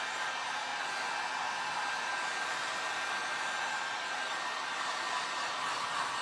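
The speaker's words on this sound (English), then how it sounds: "Now I got my noisy dryer, but it's faster." A hair dryer blows continuously with a steady, rushing whir and faint high whine, unchanging throughout and heard up close without talk.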